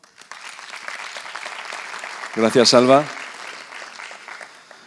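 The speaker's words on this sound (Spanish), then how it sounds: "Lo seguimos con un aplauso" Audience at a circular economy innovation event gives steady applause throughout, with a brief spoken thanks rising over the clapping midway before it continues at moderate loudness.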